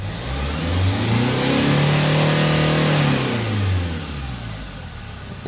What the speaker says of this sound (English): Let's try to accelerate now. Check the RPMs and listen to the engine sound